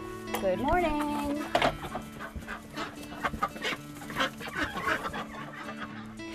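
Chickens cluck and squawk in short, irregular bursts at close range, with a steady low hum running underneath.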